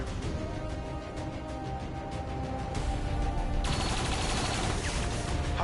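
Gunfire in XCOM 2 crackles as a rapid, sustained volley of shots, growing louder and sharper partway through the burst.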